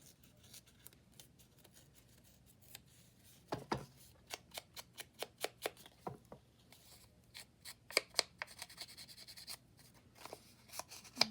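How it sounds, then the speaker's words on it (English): Paper being torn along its top and bottom edges for a Christmas journal page, a quiet close series of short ripping and rustling bursts, sparse at first and then quicker, no talk. "But I do need to tear the top and the bottom."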